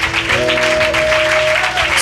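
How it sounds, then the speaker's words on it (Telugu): Congregation at a Sunday church service claps in a loud, continuous burst, with a sustained musical tone sounding beneath the applause. "ఆయన కోసం చప్పట్లు కొట్టుండి ఒకసారి"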